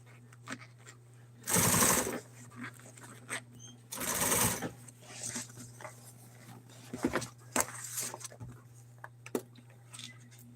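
A sewing machine stitches upholstery around a car headrest in loud, short bursts of rapid whirring separated by pauses, with a steady low hum running underneath and small handling clicks between runs.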